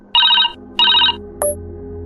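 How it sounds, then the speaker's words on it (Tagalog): A cellphone rings with an incoming call, sounding two loud bursts of bright electronic ringtone followed by the start of a third, close by with no voices. "Agad naman dinampot ni Rocky ang cellphone at saka sinagot ang tawag."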